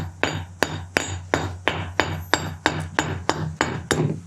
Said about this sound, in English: I can hit this with this hammer,